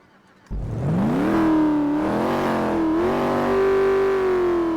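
A C7 Corvette's modded V8 engine in the video game GTA V starts up abruptly after silence, then revs and rises into a loud, steady rumbling drone.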